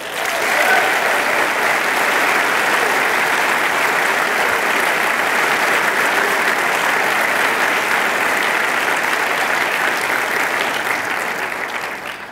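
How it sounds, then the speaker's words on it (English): Sustained applause from a large audience at a Year Up Providence graduation ceremony, loud and steady for about twelve seconds before tapering slightly at the end. "I ask everyone in the room to please join me in giving a strong round of applause"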